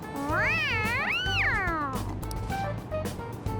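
A cat in the video game Persona 5 meows loudly and close, with several long rising-and-falling cries followed by softer purring or murmuring sounds over a steady game background.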